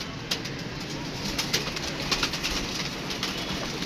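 Pigeons, including young birds, coo steadily in a loft, a continuous close murmur of soft calls with a few louder peaks.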